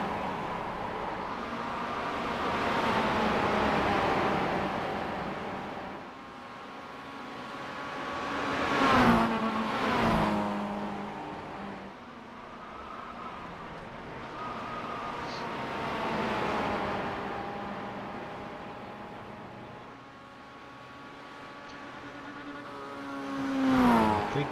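Race cars at Summit Point circuit passing by, engines droning and rising in pitch as they rev, with swelling pass-bys that fade away and return, fairly distant and continuous.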